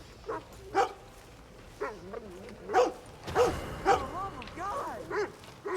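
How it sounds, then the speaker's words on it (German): A dog in a video game barks several times in short separate yaps with whimpering tones, close and clear, while someone talks over it. "Aber warum bellt denn der Hund?"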